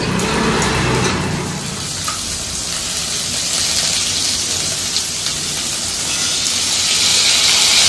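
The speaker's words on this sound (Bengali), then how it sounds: "মা প্রথমে সাদা তেল অল্প একটু গরম করেছে, এই অবধি তেল ছিটে আসছে।" Garlic sizzles and spits in hot white oil in a home kitchen, a dense, loud hiss with scattered pops of splattering oil running steadily throughout, no voices.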